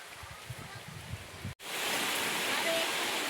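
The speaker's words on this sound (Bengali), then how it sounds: "আর হঠাৎ করে পানি চলে এলো, তো বৃষ্টি পড়ছে" Rain falling outdoors, starting suddenly: after a cut, a dense, steady hiss of rainfall fills the rest, louder than the muffled murmur before it.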